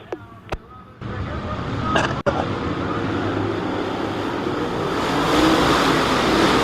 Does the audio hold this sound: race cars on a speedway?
yes